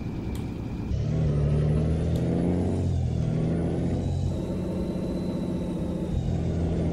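Engine brake of a loaded VW 24-250 truck in Euro Truck Simulator 2 gives a steady, loud, low rumble that holds for several seconds.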